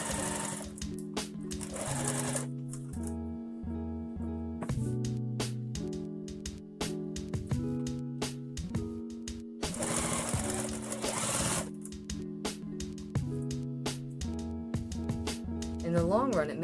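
A sewing machine stitches fur in short bursts, its motor whirring and the needle chattering in stop-and-start runs of a few seconds each, close and clear.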